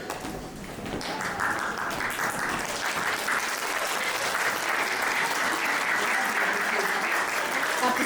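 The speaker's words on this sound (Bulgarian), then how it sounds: "Аплодисментите са им напълно заслужени." Sustained applause from an audience at a Bulgarian school's Christmas celebration on Cape Cod, a dense steady clapping that fills the room and holds at an even level for several seconds, with faint voices mixed in.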